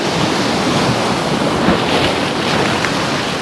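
Sea surf rolling onto the shore at Lynemouth on the Northumberland coast, a constant loud wash of broken water with wind buffeting the microphone, no voices.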